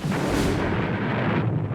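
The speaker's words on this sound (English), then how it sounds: "Loudspeakers play sounds of gunfire and explosions to create a more realistic combat environment" A loudspeaker plays a single heavy boom that bursts out loudly, a deep rumbling blast of recorded gunfire or explosion that rolls on for under two seconds, during Marine boot camp combat training.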